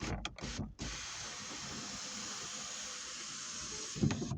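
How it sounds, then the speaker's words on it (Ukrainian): A Geely Emgrand's power sunroof opens automatically, a steady whirring motor hum that runs for several seconds after a few quick clicks at the start, with a soft thump near the end. "Люк працює, автоматично відчиняється."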